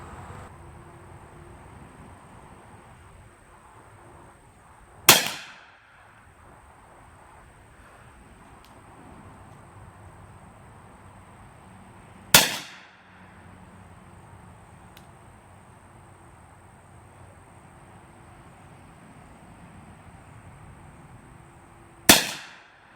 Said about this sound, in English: Let's go back and shoot some more.